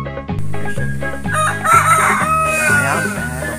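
A rooster crowing loudly and close, set against a repeating rhythmic musical backdrop in a comedy skit about gaming.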